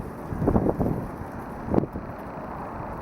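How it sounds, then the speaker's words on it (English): Gusts of wind buffet an outdoor deck, rough bursts of rumbling noise rising and falling twice before easing to a softer steady rush. "it's very windy today"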